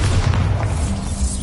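A Bombarda spell explosion in Hogwarts Legacy, a deep, rumbling boom that fills the whole moment with sustained low thuds and no speech.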